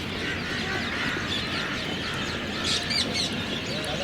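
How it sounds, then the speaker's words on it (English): Birds chirping in trees in Old Delhi against a steady background hum, with a few brief, sharper calls toward the end. "I don't know if you can hear those birds."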